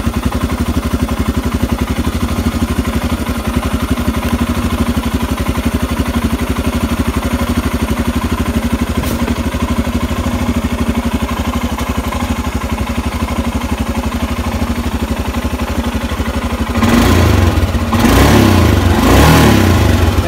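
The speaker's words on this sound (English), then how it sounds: "You can see my motorcycle has been started." A motorcycle engine running after a jumpstart, idling in a steady close rumble for a long stretch before being revved in a few louder bursts near the end.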